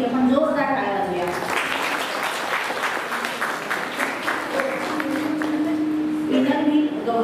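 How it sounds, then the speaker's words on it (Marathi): Audience applause at a Nation Builder award ceremony in a Rotary hall, a steady burst of clapping lasting several seconds while a voice carries on speaking over it. "सावित्रीबाईंसाठी आपण जोरदार टाळ्या वाजवूया"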